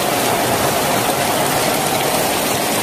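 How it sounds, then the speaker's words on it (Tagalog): Heavy rain pours down steadily and loudly, a dense, unbroken hiss of water falling close by with no pauses and no voices over it. "So, medyo malakas yung ulan dito."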